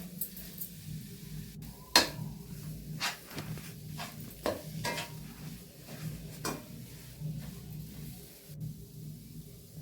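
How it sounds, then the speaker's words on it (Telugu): Ground almonds and cashews are mixed into a coconut laddu mixture, with a spoon clinking and scraping against the pan in irregular bursts over a low background hum. "ముందుగా మిక్సీ పట్టిన బాదం పప్పు జీడిపప్పు ఒడిని వేసి ఆ రెండింటిని బాగా కలపాలండి"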